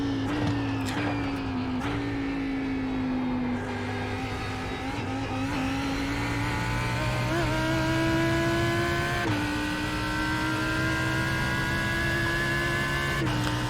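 Lamborghini Huracán GT3 Evo race car at Sebring in iRacing, its engine droning steadily with rising and falling pitch through gear shifts, loud and continuous with no voices.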